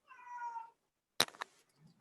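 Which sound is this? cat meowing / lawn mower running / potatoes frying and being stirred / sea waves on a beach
cat meowing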